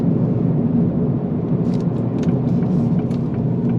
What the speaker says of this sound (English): There is a bit of road noise, but no wind noise, which is nice.